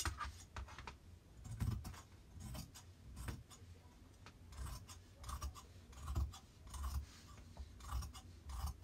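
Scissors trim fabric for sewing a jumpsuit, with quiet repeated snips and rustling cuts in an irregular rhythm, close and faint, with no talk.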